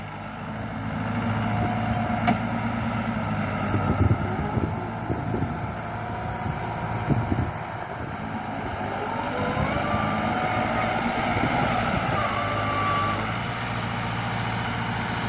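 New Holland 7500 tractor engine running steadily while hauling an 8-foot desi farm scraper out of a pit, a continuous loud drone with occasional knocks and rattles, no talking.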